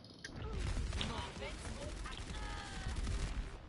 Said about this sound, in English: She started shooting.